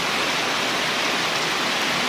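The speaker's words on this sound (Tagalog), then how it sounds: "Malakas ang ulan" Steady, heavy rain pours down in a dense, unbroken hiss, with no voices or other sounds over it.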